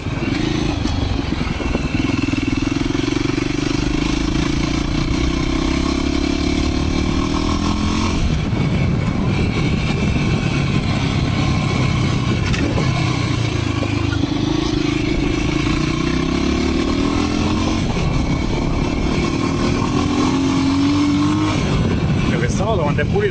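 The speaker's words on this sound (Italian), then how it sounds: "Questa moto quando è pulita è più veloce." A motorcycle rides along a road in Africa, its engine droning and rising through gears amid wind buffeting and rattling, with a rider speaking over the continuous close engine noise.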